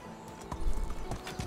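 Horse hooves clip-clop at a riding pace in the medieval life-sim game Medieval Dynasty, a run of close, thudding steps with a faint whinny-like tone underneath.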